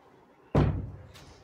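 A door shuts with a single loud, close slam in an indoor room, followed by a brief fading rumble and a faint later click.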